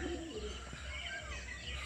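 Pigeons coo inside a closed loft on a rooftop on a dewy early morning, a soft continuous murmur of calls over steady background noise.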